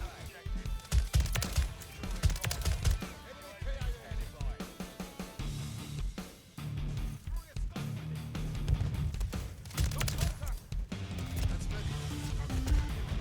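In Call of Duty Modern Warfare 3, a gun in single-fire mode fires a dense, irregular stream of sharp shots with booming low impacts, loud and close over a busy game soundscape.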